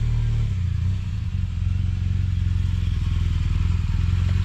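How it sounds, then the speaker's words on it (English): An adventure motorcycle engine idles and is ridden off, its steady loud low rumble continuous throughout with slight rises as it pulls away, close and with no talking. "Start the bike. Enjoy a quick ride around the block."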